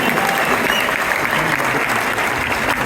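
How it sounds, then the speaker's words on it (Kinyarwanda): Loud, sustained applause from a large crowd, dense clapping filling the whole stretch without a break. "Dukomere Imana amashyi tuyakome cyane"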